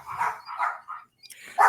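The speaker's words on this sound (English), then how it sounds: "them dogs are going nuts today" Several dogs bark in quick bursts, a string of four or five loud, close barks with brief gaps, picking up again sharply at the end, with background noise during a live talk show.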